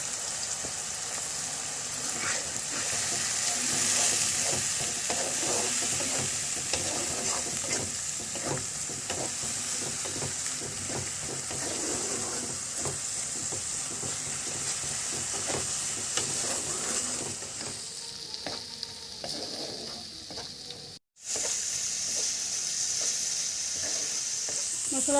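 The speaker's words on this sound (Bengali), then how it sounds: "মশলা থেকে তেল বেরিয়ে গেছে, মশলাটা আমার কষানো গেছে।" Spices frying and being stirred in hot oil for Bengali mustard chapila fish, a steady close sizzle with scraping stirs that runs throughout and cuts out for a moment near the end.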